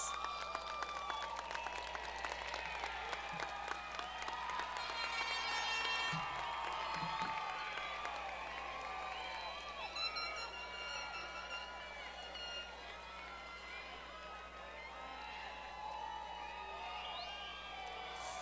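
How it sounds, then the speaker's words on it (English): Graduation crowd of family and friends at a high school ceremony clapping and cheering, with whoops and children shouting, heard from a distance as a steady sustained roar. "give your family members and friends a round of applause"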